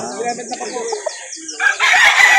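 A rooster at a gamecock market crows loudly and close, one drawn-out crow followed by a harsh burst of noisy market clamour.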